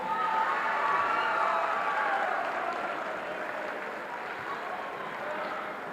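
Sustained crowd applause at a high school basketball homecoming court presentation in a gym, a steady wash of many hands clapping that stays fairly even and slowly eases over six seconds, with no clear voices.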